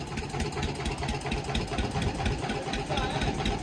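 A tractor engine runs close by while a sugarcane trailer is being loaded, giving a loud, continuous chugging rumble that holds steady throughout.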